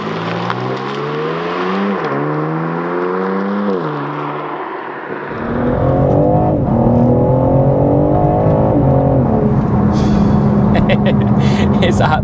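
A BMW G80 M3 Competition pulls hard and loud, engine note rising steadily through the revs, then a gear change drops the pitch before it climbs again with a rough, full exhaust roar.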